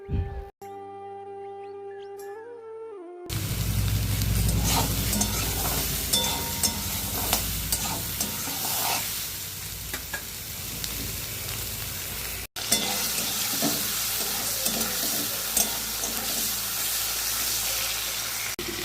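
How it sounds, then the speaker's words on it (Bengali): Pointed gourd (potol) frying in a pan gives a steady, loud sizzle that runs continuously after a brief quiet start, with a short cut partway through. "এই দেখো পটলগুলোকে ভাজি করে নিচ্ছি"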